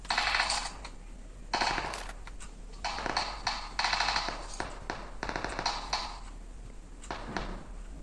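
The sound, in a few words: weapon reloading in video game PUBG Mobile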